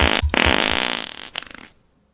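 A loud, close fart sound effect with a bubbly, sputtering quality runs for about a second and a half, then fades out in fluttery bursts.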